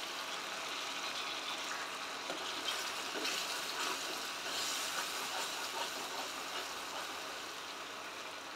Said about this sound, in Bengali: তো আমি এর মধ্যে গরম জলটা ঢেলে দিচ্ছি।